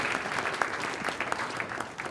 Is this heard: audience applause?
yes